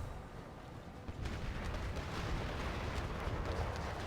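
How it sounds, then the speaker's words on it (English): Two artillery units bombard a wall in Empire: Total War, a faint, continuous rumble of distant cannon fire and impacts that swells slightly after the first second. "We got both artillery units working on that wall on this side."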